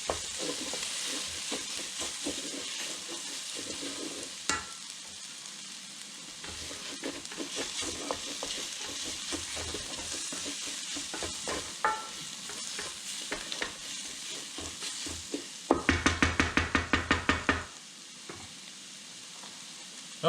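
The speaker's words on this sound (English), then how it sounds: "Let's heat up these spices. So let's get them to bloom." Spices bloom in a hot pan for pique a lo macho, giving a continuous close sizzle with scraping stirring strokes and a louder burst of rapid stirring near the end.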